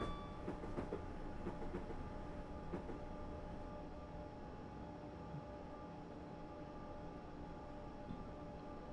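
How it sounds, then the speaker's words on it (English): Simulated train running sounds from Train Simulator 2018 on the Brighton Main Line: a faint, steady rolling drone with a few sharp clicks early on. "I'm really not that big of a fan of the run sounds on this train"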